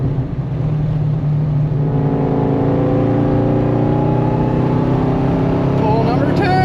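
Tuned Jaguar car engine revving hard under load, a loud steady roar that climbs in pitch with rising whine, close and continuous throughout; no distinct exhaust pops stand out.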